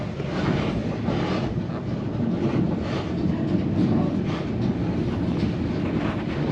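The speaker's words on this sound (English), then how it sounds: "What an exciting train ride we're on today" Steady rumble and wind of a White Pass railway passenger train in motion, heard from aboard as a continuous, fairly loud roar with faint rhythmic rail noise throughout.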